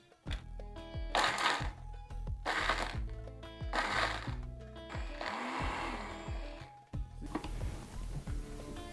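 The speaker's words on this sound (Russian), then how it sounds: "Закидываем все в стакан блендера" Blender jar whirring through chopped chili peppers and five or six garlic cloves, run in several short loud pulses with brief pauses between bursts, close up.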